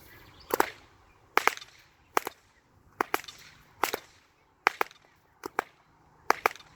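Sharp whip cracks from two whips, one in each hand, arrive in close pairs, one quickly after the other, repeating in a steady staggered rhythm with quiet gaps between.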